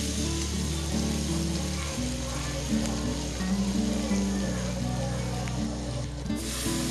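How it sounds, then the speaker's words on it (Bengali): Chopped onion frying in hot oil for katla kalia, a Bengali fish curry, giving a continuous loud hiss and crackle up close, with background music underneath throughout. "পেঁয়াজটাকে একটু ফ্রাই করে নিতে হবে।"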